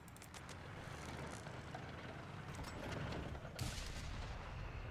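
Mortar fire and battle noise in the World War II strategy game Company of Heroes 3, a dense continuous rumble with scattered sharp cracks and a heavier burst near the end, no speech.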